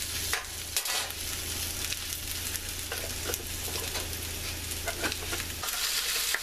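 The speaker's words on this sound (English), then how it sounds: "let's stir this up a little bit here" A heaping teaspoon of coconut oil is stirred in a hot pan, giving a steady sizzle and frying crackle with light scraping of the utensil, with no talk.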